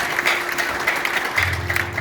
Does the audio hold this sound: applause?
yes